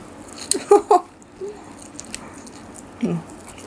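Crunchy bites and chewing of grilled fermented fish and banana blossom with shrimp chili dip, a few close wet crunches early, then quieter mouth sounds and another bite near the end.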